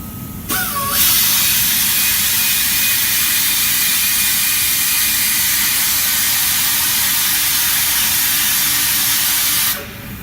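A power tool buffs away the top inner layer of a tire to prepare it for a rubber patch, a steady loud hissing whir that runs almost continuously for about nine seconds before cutting off.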